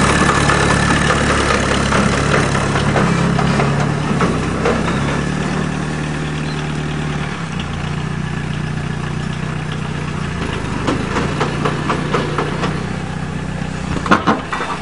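A Peugeot 106 with a small 1.6 turbo diesel four-cylinder engine idles steadily up close, a constant low rumble and clatter with no talking over it.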